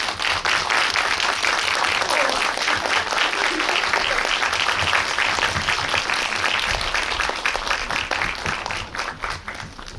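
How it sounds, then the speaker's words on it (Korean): A packed cinema audience applauds to welcome a film's director and actress at a post-screening talk at an indie theater, sustained close clapping throughout that thins slightly toward the end. "박수로 환영 부탁드릴게요."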